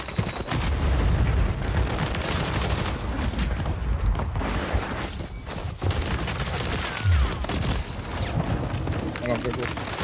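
A Warzone video game firefight with a sticky grenade blast and sustained gunfire, dense and loud throughout, with voices talking over the combat.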